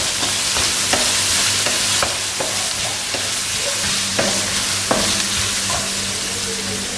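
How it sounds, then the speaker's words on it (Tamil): Tomatoes sauté in a pan with salt, making a loud, close sizzle and a run of sharp spatula taps and scrapes against the pan, steady throughout with no voices. "தக்காளி போட்டு வதக்கிட்டு"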